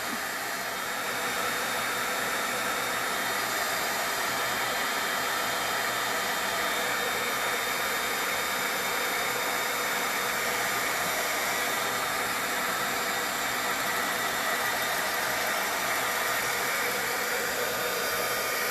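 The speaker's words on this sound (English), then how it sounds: "I'm going to hit this with the heat gun." A heat gun blows with a steady, loud, unbroken rushing hiss as it dries stamped ink on a handmade card.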